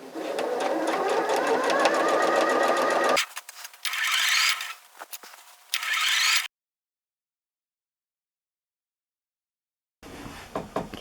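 Domestic sewing machine stitching a zipper seam on a pair of pants, running in a steady continuous whir for a few seconds, then in shorter bursts with pauses, followed by a silent gap and a brief restart.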